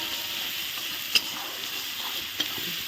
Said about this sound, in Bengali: এই পেঁয়াজই ভেজে নেব